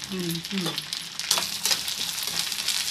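Curry leaves hit hot oil and fry with a sharp, crackling sizzle that stays bright and steady after a brief clatter, close up, with a short voice heard at the start.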